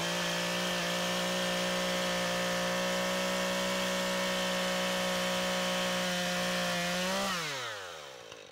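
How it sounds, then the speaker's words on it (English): A chainsaw cutting logs for firewood runs at a loud, steady high pitch for several seconds, then its engine winds down and fades. "the chainsaw makes light work of it"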